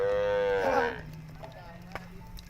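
Cattle on Borana rangeland in Kenya give one drawn-out low moo that swells then fades after about a second, followed by faint ambient noise and small knocks, with no talk.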